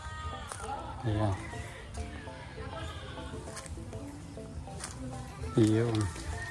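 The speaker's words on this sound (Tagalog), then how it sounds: "Dito madami din silang kambing dito." Goats on a countryside farm in the Philippines give two distinct bleats, one early and a louder one near the end, with someone speaking casually in between and over the calls.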